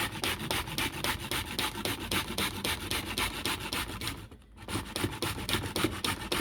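Carrots scraped against a small grater in fast, rhythmic rasping strokes, close and steady, with one brief pause before the grating resumes.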